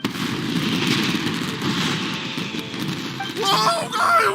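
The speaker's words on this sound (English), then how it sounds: "Yoimiya, this is turning into a bit of a fireworks display." Video game fireworks in Genshin Impact, crafted by the character Yoimiya: a steady wash of crackling bursts and pops, with brighter sparkling crackles near the end.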